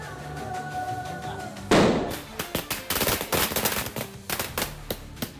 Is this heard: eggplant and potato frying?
no